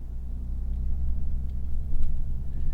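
A 2024 Lexus GX Overtrail+ creeping off-road under crawl control at under one mile per hour, a low, steady engine rumble with faint scrapes and clicks from the terrain.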